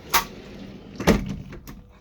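The bathroom door in a 2017 Winnebago Fuse 23A RV is opened or closed: a couple of quick knocks and thuds, then a sharper clunk with a brief rattle, close and fairly quiet.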